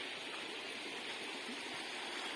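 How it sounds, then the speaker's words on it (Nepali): A river swollen by the rainy season flows behind a pig farm, a continuous, even rushing hiss heard from some distance with no voices. "अहिले बर्खाको समयमा त खोला निकै ठुलै छ"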